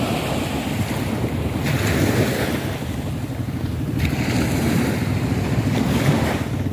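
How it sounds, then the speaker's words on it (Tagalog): Ocean waves rolling onto Bukana beach, a continuous surf wash with heavy wind buffeting the microphone and swells that rise and fall, no voices. "napakaganda ho ng aming beach. Ang beach ng Bukana."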